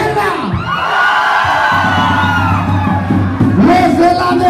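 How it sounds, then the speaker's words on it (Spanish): A crowd on the left side of a dance hall at a quinceañera party with a live banda shouts and whoops loudly in a sustained, swelling roar, with a brief drop and renewed cheer toward the end. "¡Una vez más, ese grito los de la izquierda!"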